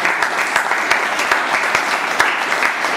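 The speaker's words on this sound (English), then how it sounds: "A big round of applause to the" An audience at a Toastmasters meeting applauds the Toastmaster: dense, steady clapping from a roomful of people, loud and even, with occasional sharper individual claps standing out.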